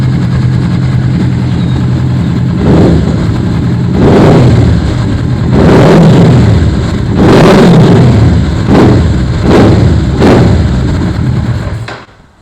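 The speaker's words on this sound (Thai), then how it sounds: "เดี๋ยวผมพามาฟังเสียงท่อต่อเลยครับ" A 2014 Kawasaki ER-6N motorcycle's exhaust rumbles steadily at idle, broken by about five sharp throttle blips that rise and fall, close and loud, with no talking.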